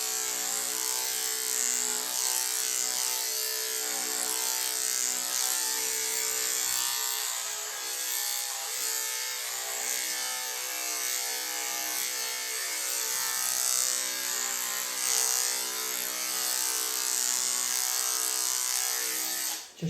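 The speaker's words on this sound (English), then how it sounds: "When it comes to trimming the head, I'm using my attachment comb 5." Electric dog clippers fitted with an attachment comb buzz steadily and close up while trimming the head of a doodle, a continuous high whine with small shifts in pitch and load that runs the whole time without speech.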